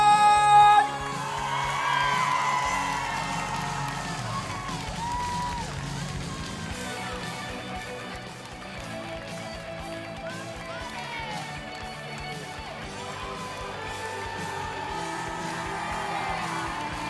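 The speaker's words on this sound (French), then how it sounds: "je vous demande de garder encore vos applaudissements pour l'Espagne" An audience at the Japan Expo cosplay show cheers, whoops and claps, a loud burst at first that settles into a steady, wide crowd roar mixed with music and scattered shouts.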